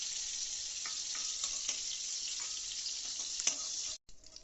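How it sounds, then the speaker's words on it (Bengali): Tiger prawns coated in turmeric and Kashmiri chilli powder fry in a wok, giving a steady close hiss of sizzling oil with a few soft stir clicks. The sound drops out abruptly near the end. "দেখতেই পাচ্ছেন আমাদের বাগদা চিংড়ি মোটামুটি ভাজা হয়ে গেছে।"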